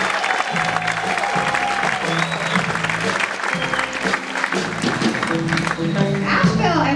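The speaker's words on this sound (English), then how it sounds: "Everybody give him a round of applause for the lovely Emma Arnold." Comedy club audience in Asheville applauding comedian Emma Arnold as she takes the stage, a dense, steady wash of clapping and crowd noise filling the whole stretch with music and murmurs mixed underneath.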